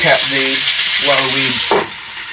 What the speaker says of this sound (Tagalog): fry the meat, we need a little bit like a low fire